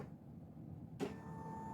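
An embroidery machine tracing the outline of a patch starts up after a quiet pause: a sudden click, then a steady, faint mechanical whir with a thin tonal hum, close by, with no voices.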